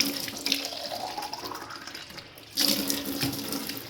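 Tap water runs steadily into a washed plastic box being filled for flowers, a close hissing splash that shifts in tone as it fills, with a louder surge near the end.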